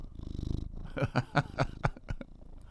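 A lap cat purring up close, a soft rhythmic rumble with pulsing breaths that grows louder midway, heard without talk.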